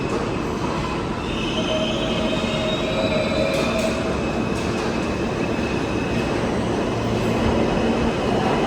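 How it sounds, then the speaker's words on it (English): A New York City R subway train rumbles loudly through Queens Plaza station, with steady roar, faint wheel squeals and rattling as it pulls in. "And we have the R train."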